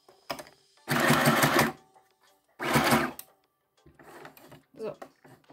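Sewing machine running short forward bursts to lock a seam on a fabric scrunchie: two loud sustained whirring runs, then softer, choppier stitching, all near and clear with no speech.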